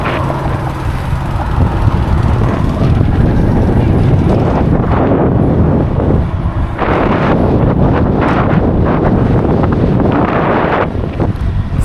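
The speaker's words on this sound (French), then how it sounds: "on a le vent d'en face" Heavy wind buffeting a microphone while cycling into a headwind on a training ride, a loud continuous roar with gusting surges and no speech over it.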